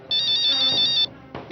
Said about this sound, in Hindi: अरे ये तो वही संदीप के आदमी का फोन है।